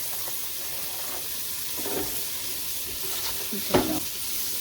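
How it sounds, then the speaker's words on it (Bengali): Onions fry in butter in a pan with a steady close sizzle, broken by a few sharp crackles and stirring scrapes, the loudest burst near the end. "এবার আমি কিছু অনিয়ন ভেজে নিব।"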